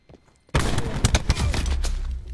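Gunfire in Black Ops 4 bursts out suddenly after a quiet moment, loud and close, with a rapid volley of sharp cracks and echoing reports over about two seconds.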